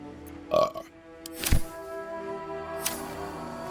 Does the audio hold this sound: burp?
yes